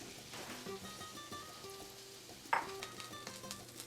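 Green chile casserole ingredients fry in a pan on medium heat, a steady close sizzle with scattered small pops and one sharper spit near the end, no talking.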